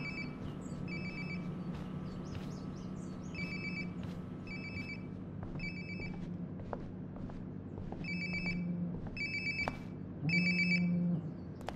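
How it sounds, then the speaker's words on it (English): In the video game Life Is Strange Before the Storm, a phone rings in repeated electronic bursts from nearby, and a louder buzzing tone joins near the end. Nobody talks. "Sounds like my phone is definitely nearby."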